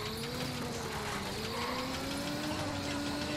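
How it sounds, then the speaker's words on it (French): A steady car engine hum in the video game Ghost Recon Wildlands drones throughout, with a slowly rising pitch like a car accelerating, constant and fairly loud with no talk. "Oh, le bruit de la voiture."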